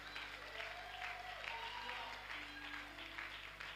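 Church congregation clapping for Jesus during a Sunday service, a steady continuous patter of applause at moderate distance, with some voices mixed in.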